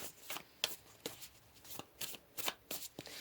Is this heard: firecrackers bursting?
no